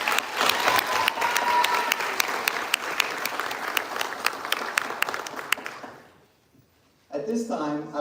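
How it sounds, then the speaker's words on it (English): Audience applause at a middle school promotion ceremony, steady crowd clapping that fills the hall for about six seconds, then fades to near silence before a voice begins speaking. "Let's give her a round of applause."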